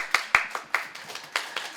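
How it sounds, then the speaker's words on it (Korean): A small group claps for a student at a Korean academy admissions briefing, with about eight sparse, sharp claps spaced unevenly in a short, close burst and no talking. "80분 박수 안 쳐주십니까?"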